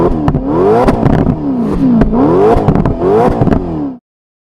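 Toyota GR GT sports car engine revs hard several times in quick succession, pitch sweeping up and down with each blip, loud and close, ending abruptly.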